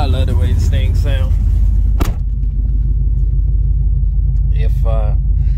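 Cammed Ram 1901 truck engine (YellowJacket) rumbling steadily at close range with a heavy low throb, a sharp thump near the two-second mark, and a person talking over it at the start and again near the end.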